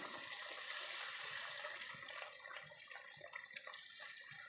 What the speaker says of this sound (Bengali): দিয়ে দেবো গরম পানি